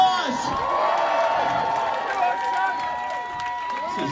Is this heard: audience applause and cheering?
yes